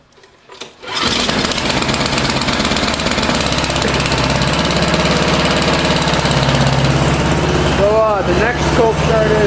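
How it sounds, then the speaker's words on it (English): A John Deere snowblower cold-started in winter, its small engine catching after a brief pull and then running loud and steady at a high idle close by, with a faint voice briefly over the roar near the end. "the first cold start is John Deere snowblower"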